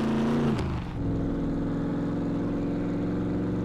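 A truck engine in the video game SCUM revs, its pitch dropping briefly, then settles into a loud, steady, throaty drone up close.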